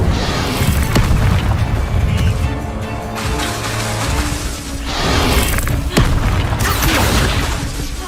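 An Incendio fire spell goes off in Hogwarts Legacy as a series of loud booming blasts with whooshing fiery bursts and crashing impacts, several in quick succession, full and close.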